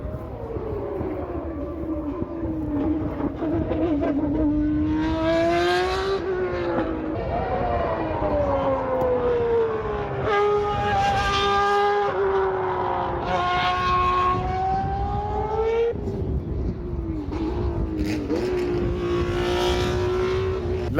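Historic Formula 1 race cars lapping Paul Ricard circuit at a historic Grand Prix, several loud engine passes rising and falling in pitch one after another, high-revving whine dominating throughout with no talk.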